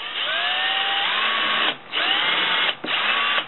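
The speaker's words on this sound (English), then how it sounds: "I'm going to drill a pilot hole here." A power drill bores a pilot hole while a solar panel is being built, its motor whining up in pitch in two long sustained runs separated by short pauses, close and loud with no talking.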